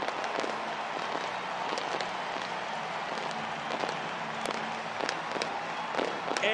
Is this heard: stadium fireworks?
yes